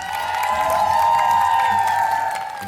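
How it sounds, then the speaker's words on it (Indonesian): Studio audience on an Indonesian ANTV game show applauding and cheering for team Cabrek, a steady, dense wash of clapping and crowd noise lasting throughout, with a faint background tone. "Oke, tepuk tangan dong buat tim Cabrek"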